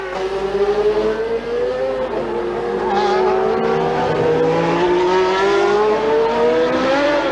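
Ayrton Senna's Marlboro McLaren Formula One car slides around a soaked track in heavy rain at the Australian Grand Prix in Adelaide, its loud engine whine climbing and dipping steadily, with tire squeal mixed in.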